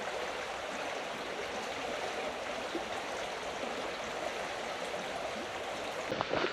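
A river flowing along a riverside walk, steady broadband rushing and babbling water heard close and continuous, with no voices, only a faint brief bump near the end.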